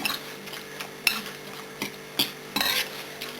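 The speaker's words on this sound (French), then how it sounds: "Et vous allez mélanger." A spoon stirs a tomato stuffing mixture in a bowl, producing a few distinct clinks and scrapes spaced irregularly over a quiet kitchen background.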